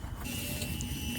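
Solar panels on a Silicon Ranch solar site starting up, giving a steady mechanical whirring hum with a faint high whine, continuous and fairly close throughout.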